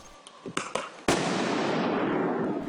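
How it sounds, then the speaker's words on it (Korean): Explosions during a street protest in Portland: several sharp pops, then a loud close blast that rolls into a long, sustained roar and crackle. "곳곳에서 폭발음이 들리고"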